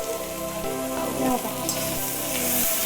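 Fried chicken pieces tossed into sauced Hakka noodles in a home kitchen give off a steady, soft sizzle and crackle, with quiet tonal hum and faint clinks beneath, no talking.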